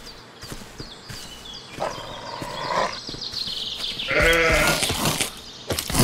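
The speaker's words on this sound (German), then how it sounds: "Komm schon, Ziege." A goat in the Force of Nature video game, heard as bleating calls and hoof clatter over game ambience, with a louder, sustained bleat midway and scattered quicker sounds around it.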